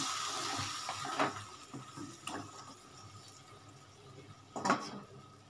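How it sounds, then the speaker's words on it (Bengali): Spiced water poured into bhindi masala cooking in a pan, a soft splashing and sizzling with a few louder pours and sputters, quiet and close. "এখানে মশলা বানানো জলটা আমি দিয়ে দিচ্ছি"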